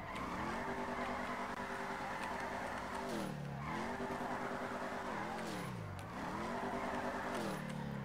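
Ford Mustang GT drifting in the FiveM game, its engine revving in steady rising tones that sag and swoop with each slide, while tire squeal cuts in repeatedly over about eight seconds, quiet in level and with no voices.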